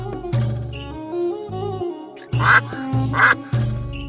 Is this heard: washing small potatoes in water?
no